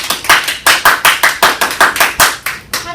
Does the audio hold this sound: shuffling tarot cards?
no